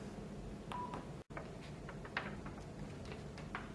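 Mobile phone key press beeps while moving through the phone's menu to save a blood sugar measurement result. Short electronic tones sound close over a steady background hiss.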